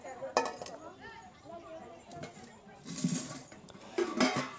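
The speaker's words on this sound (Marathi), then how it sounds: "या स्टेनलेस स्टीलच्या कढईचं एक झाकण सुद्धा आलेलं आहे, जे की एकदम परफेक्ट बसते यावरती।" A stainless steel kadhai and its lid being handled, giving several sharp metallic clinks and clanks at irregular intervals, fairly close, over a quiet room background.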